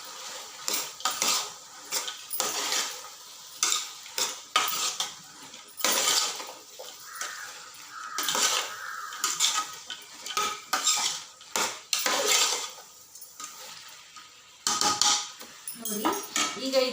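A metal spoon scrapes and clinks against a pan while field beans and cowpeas are stirred and fried in a tempering, in irregular bursts of clatter with short pauses and a voice talking now and then.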